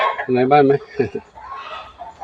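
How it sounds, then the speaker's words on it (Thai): Chickens squabbling as they go to roost at a temple in Lampang, giving a short burst of loud, close clucking and squawks that fades into quieter background noise. "ดูตรงนี้ไก่กับตุ๊กเต๊กไก่เขากวนกันไก่จะขึ้นนอนก็กวนกัน"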